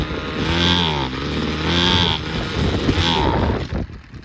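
A Ryobi CS26 string trimmer's small two-stroke engine runs loud and close, its revs surging and sagging unevenly as it bogs down, then dropping away at the end.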